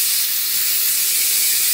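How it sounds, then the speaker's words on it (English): Steam rushes out of a pressure cooker's rapid vent after braising beef ribs in beer, giving a loud, steady, close hiss that holds constant without a break. "Get all the steam out of there."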